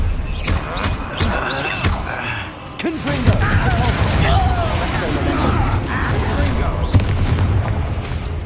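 A Confringo spell fires in Hogwarts Legacy combat, with booming impacts and crackling blasts over a dense game mix while voices talk throughout.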